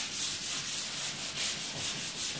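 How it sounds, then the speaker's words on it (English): Close, rhythmic scratching of sandpaper rubbed by hand over a piece of wood in quick back-and-forth strokes, steady and alone with no voices. "I'm just giving it a quick sand."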